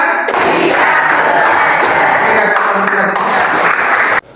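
A school class claps together in a rhythmic clapping game, dense loud group applause with thumping accents that runs continuously and then stops abruptly at the end.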